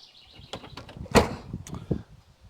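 A door being fitted to a Pontiac Fiero produces a series of close metallic clicks and knocks, then a solid thump as it shuts, followed by a few lighter taps.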